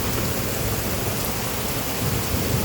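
Steady, dense rain falling outdoors during a rainy evening, a continuous close hiss with no voices.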